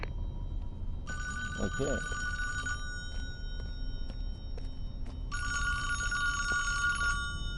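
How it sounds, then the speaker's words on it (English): Two bursts of an electronic telephone ringing inside the Friday the 13th video game, each lasting about two seconds with a gap between, sounding over game ambience while a voice speaks briefly. "Answer this phone."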